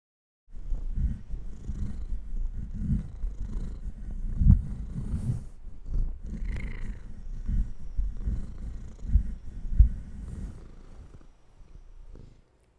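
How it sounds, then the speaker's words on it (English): A pet cat purrs right into a microphone, very close and loud. The low, rhythmic rumble continues for about twelve seconds with occasional breathy snorts and small bumps against the mic, then fades slightly near the end. "My cat is very excited to see me this morning, so I figured just let him purr into the microphone"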